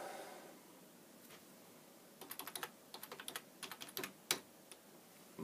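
Quick bursts of clicking keystrokes on a computer keyboard as a password is typed in, close and fairly quiet, in short irregular clusters over a faint background hiss with no talk.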